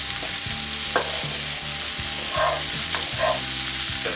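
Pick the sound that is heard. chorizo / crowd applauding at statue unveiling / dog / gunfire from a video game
chorizo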